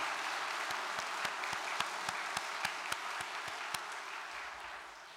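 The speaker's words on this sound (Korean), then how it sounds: "여러분, 이 자리를 빌어서 승리하신 참 어머님께 뜨거운 감사의 박수를 올려주시기 바랍니다" Steady crowd applause of thanks for True Mother fills a large hall, a dense sustained clatter of many hands with a few sharper individual claps standing out rhythmically above it.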